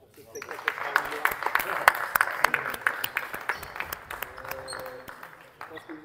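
An audience claps for a youth sports team at the end of a show, steady scattered applause that swells then thins, with a voice speaking over it.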